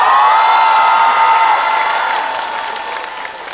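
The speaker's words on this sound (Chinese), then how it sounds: "掌声欢迎最后一位周奇墨" A studio audience at a stand-up comedy show applauds and cheers as a comedian is welcomed, loud and steady at first, then gradually fading.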